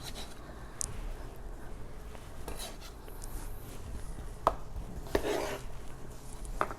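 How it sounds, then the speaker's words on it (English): Panzanella ingredients cut roughly into quarters with a knife on a board, a series of quiet, close chopping taps and soft scrapes over a faint steady background hiss. "I'm going to cut this into quarters, so each half I'll cut in half again"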